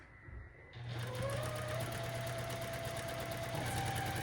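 A sewing machine stitches a quilt block for a scarecrow leaf quilt, running steadily and close once it starts just under a second in, with a continuous motor hum and rapid needle chatter that last to the end.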